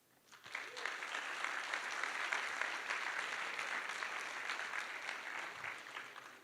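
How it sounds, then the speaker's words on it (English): A conference audience in Bangkok applauds Ethereum founder Vitalik Buterin, a swelling, sustained wash of many hands clapping in a large room that rises quickly and then holds steady. "I think that deserves an applause"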